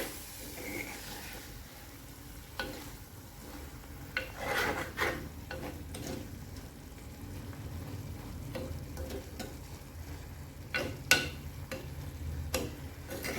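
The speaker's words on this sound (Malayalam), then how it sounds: "കഴുകി വൃത്തിയാക്കി വെച്ച മത്തി അങ്ങോട്ട് ഇട്ട് കൊടുത്ത് ഒന്നും കൂടെ ഒന്ന് മിക്സ് ചെയ്യാം." Sardines being stirred in a frying pan for a Malayalam dry-roast dish, with soft scraping and rubbing of the spoon and intermittent sharp clicks against the pan over a low, steady frying hiss.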